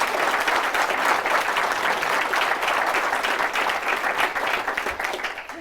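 Steady audience applause at a healthcare lecture in Pensacola, a dense, even patter of many hands clapping that holds strong and tapers slightly at the end.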